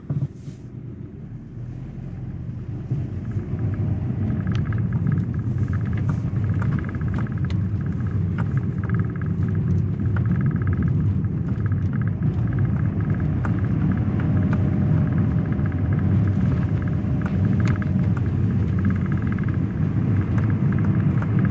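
Steady low roar of wind buffeting a microphone held out of a car window while the car drives along, with constant road rumble and no voices.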